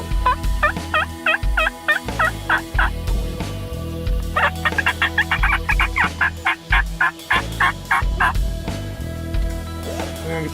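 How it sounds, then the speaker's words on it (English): Wild turkeys in the woods during a spring hunt, gobbling and clucking in loud repeated bursts close by, with occasional low thumps beneath. "try to lure a gobbler in"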